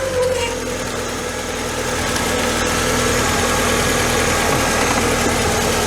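A Volkswagen engine idles steadily after repair, now firing on all four cylinders, with a constant low rumble and hum running unbroken for the whole stretch.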